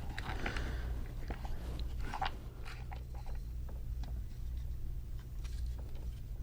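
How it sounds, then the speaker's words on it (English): A loose piece rattles inside a vintage Italian Robot Charly toy robot as it is handled, giving faint, scattered clicks and small knocks against a low background hum, with no talking. "This one's rattling too."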